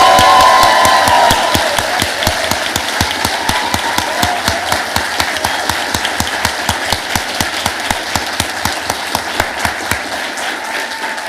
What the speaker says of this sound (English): let's use that same thunderous applause you just used for the first of many times that we're going to congratulate the 2023 graduating class